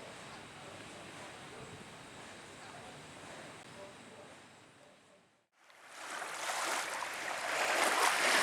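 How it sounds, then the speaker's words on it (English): Waves on Lake Erie near a flag, a broad steady wash of water and wind that drops briefly to near silence, then returns louder and rougher, with no talk over it. "the waves out there right by that flag are just acting in a very erratic manner"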